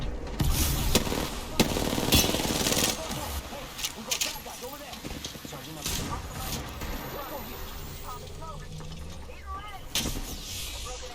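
Apex Legends gunfight with an R9 in the smoke: bursts of rapid gunfire crack in clusters, some loud and close, others fainter, amid game effects and someone talking over it.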